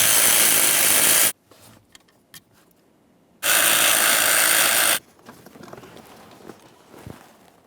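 Power tool, probably an electric ratchet, whirring in two loud sustained bursts while removing 10mm mounting bolts under the dash of a 2009-2014 Nissan Maxima, with quiet handling noise between.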